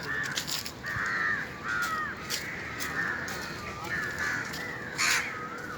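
Crow-like cawing calls from birds outdoors, repeated in short rhythmic bursts at moderate distance, over steady background noise with faint voices.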